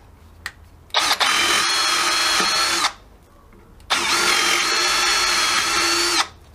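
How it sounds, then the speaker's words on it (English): A power drill whirs through wood, boring an 8mm hole, in two long, loud bursts of about two seconds each, separated by a short pause. "Then we drill our 8mm hole in the wood"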